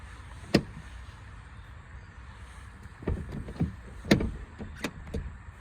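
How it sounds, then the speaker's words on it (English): The door of a 2006 BMW 530d E60 SE with comfort options pulls itself shut with its soft-close mechanism, giving a few muted clicks and light thuds over a faint background hiss. "when we close the door,"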